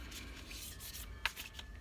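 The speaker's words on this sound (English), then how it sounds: "The cards that I can't shuffle very well." A deck of oracle cards being shuffled by hand, a soft, quiet rubbing and riffling with a few sharper flicks, close and faint with no talking.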